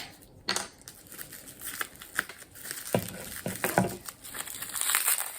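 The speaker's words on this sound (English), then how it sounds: "Okay, here I have something wrapped up" Close crinkling and crackling of wrapping, in irregular bursts and tearing rustles, with no talking.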